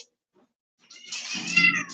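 A cat gives one drawn-out meow after near silence, close and fairly loud, rising and then tailing off in a strained, whiny tone.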